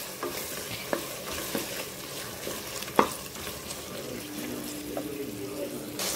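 Onions and tomatoes sauté in a pan for Chettinad mushroom biryani, with a soft steady sizzle, repeated scraping stirs and a sharp utensil clink partway through, all fairly quiet and close.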